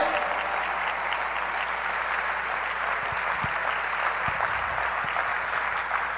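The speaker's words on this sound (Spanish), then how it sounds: "Dele un fuerte aplauso al Señor, aleluya." Sustained applause fills a church service during a Spanish-language sermon, a steady dense wash of clapping from the congregation lasting several seconds with no talk over it.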